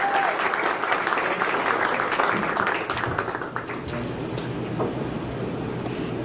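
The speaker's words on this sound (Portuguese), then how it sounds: "E agora eu queria também uma salva de palmas para o Matheus Bandeira" An audience at a political event claps for a pre-candidate for state governor in Brazil, loud dense applause that thins and softens after a few seconds into a lighter lingering patter.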